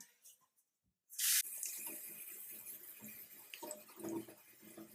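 Quinoa being rinsed under a running kitchen tap, a steady rush of water spraying into a sink with a slight splashing texture, starting abruptly after a brief quiet moment and continuing for several seconds.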